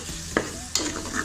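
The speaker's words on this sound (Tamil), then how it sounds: "இப்போ 1/4 கப் புளிப்பு இல்லாத தயிர் ஆட் பண்ணிக்கலாம். இது நல்லா இப்போ மிக்ஸ் பண்ணிக்கலாம்." Curd being stirred into tomato masala for a seeraga samba quail biryani, producing a wet, thick sizzle with two sharp utensil scrapes and clinks close by.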